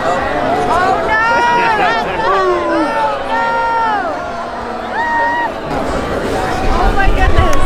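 Dense crowd hubbub at the Albuquerque Balloon Fiesta, with many overlapping voices and loud, continuous chatter close around, with no single voice standing out.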